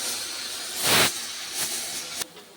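A pressure cooker with Wayanad-style bone curry lets out loud bursts of steam hiss, one strong release followed by shorter spurts.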